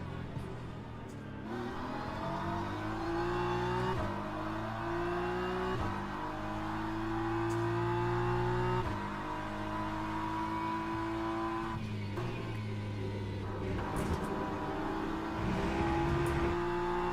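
BMW race car in the Le Mans Ultimate racing sim, its engine revving hard and climbing through the gears with sharp shifts every few seconds, loud and continuous from the cockpit.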